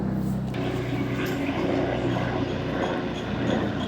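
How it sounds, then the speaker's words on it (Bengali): A helicopter passes overhead, a steady low droning hum with a rhythmic rotor throb that holds at moderate loudness for the whole few seconds. "হেলিকপ্টার যাচ্ছে"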